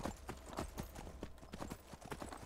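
Rapid rhythmic hoofbeats of a galloping horse in the video game Skyrim, steady and fairly close, with a faint ambient hum beneath.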